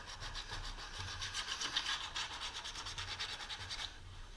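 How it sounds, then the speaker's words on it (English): Sandpaper rubbed on a surface to prep it for Fiber Fix, giving a close, steady rhythmic back-and-forth scratching that stops near the end. "So I'm just going to kind of sand it"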